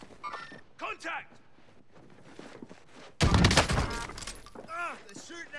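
Gunfire from Call of Duty Warzone erupts as a loud, dense burst of shots lasting under a second, cutting in after stretches of someone talking, with talk resuming afterward.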